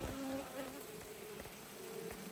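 Africanized honey bees buzz around brood frames during a removal from a shed floor in southern Arizona. The hum is faint and steady, with occasional louder passes of single bees close by.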